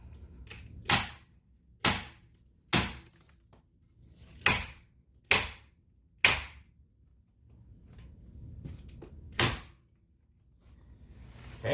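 A nail gun drives staples into foam-backed carpet on a staircase with about seven sharp, loud, snapping shots at irregular intervals, separated by quiet handling noise.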